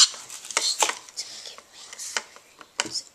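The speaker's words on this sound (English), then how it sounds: "you're gonna mix it all up. Mix it all together." Hamster treat ingredients are stirred together in a bowl, making irregular scraping, tapping and soft clinking strokes, close and fairly quiet, with brief pauses between bursts.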